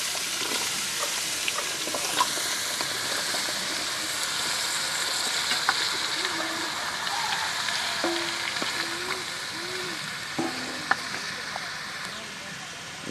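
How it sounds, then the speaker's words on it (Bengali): Chopped onion, banana stem and potato frying in a pan, a steady broadband sizzle running throughout with faint clinks of stirring and a few brief tonal sounds near the end. "কিছুক্ষণ পেঁয়াজ কুচি ভাজতে থাকুন। এরপর কলা গাছের থোর ও আলু কুচি একত্রে এভাবে দিয়ে নেবেন।"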